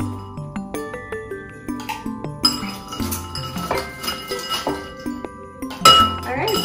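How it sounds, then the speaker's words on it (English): Ice cubes clinking and rattling into a glass or shaker while building a vodka mint mocha-tini, a run of sharp, close chinks in a loose rhythm with a louder tumble near the end. "Everything we need, now we just need to add ice."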